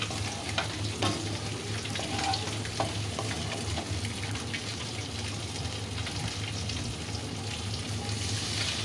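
Spiny gourd (kakrol) sautés in a pan, giving a dense, continuous close sizzle with scraping and stirring noises throughout, and no talking.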